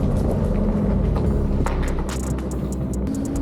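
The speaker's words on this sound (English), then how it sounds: "first proper drive in the Aston Martin DB11" A rebuilt 2017 Aston Martin DB11 drives along with a steady low engine rumble and road and wind noise, heard from inside the cabin and continuous throughout.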